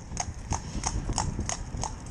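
An older riding horse walks at a steady pace, its hooves clip-clopping in a regular beat of about six crisp, close strikes over a constant outdoor rumble.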